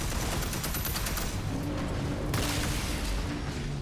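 Rapid gunfire in Red Faction: Armageddon, a dense, steady stream of crackling shots with heavy low rumble throughout, loud and close, with no talking.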